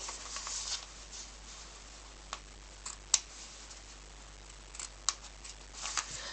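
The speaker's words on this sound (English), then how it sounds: "I cut some additional slits to where it almost looks like you're cutting a pie." Scissors snipping slits into freezer paper for an applique, a scattering of faint, crisp cuts at irregular intervals over quiet background hiss, with a few sharper snips standing out.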